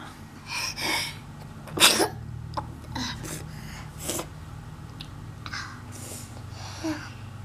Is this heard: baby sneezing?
yes